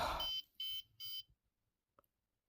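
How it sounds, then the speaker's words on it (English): An Arduino gas sensor alarm circuit gives three short electronic beeps in quick succession, fairly loud and close, followed by quiet and a tiny click. "whenever I breathe into the sensor, it should beep."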